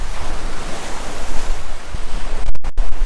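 Ocean surf washes and roars steadily on the Norwegian coast while gusts of wind buffet the microphone.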